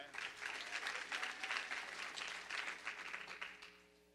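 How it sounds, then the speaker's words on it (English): Church congregation applauds with hand clapping during a worship service, a full, even burst of claps that fades out near the end as a tone lingers underneath, heard at a modest level. "Give her a hand clap."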